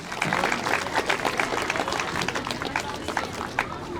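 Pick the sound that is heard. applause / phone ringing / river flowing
applause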